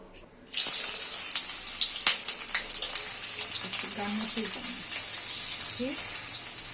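Onions dropped into hot mustard oil burst into a loud, steady sizzle after a brief quiet moment, a close, continuous hiss with faint voiced sounds briefly underneath.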